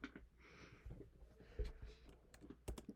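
Someone types code on a computer keyboard, giving a few faint, scattered keystroke clicks close by in a quiet room.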